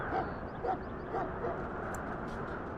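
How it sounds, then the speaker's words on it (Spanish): Dogs barking and yipping in the kennels of a Ferelden army camp in the Dragon Age Origins video game, a few faint, distant barks repeating roughly every half second over a low ambient camp hum. "¿Eso que oigo son ladridos?"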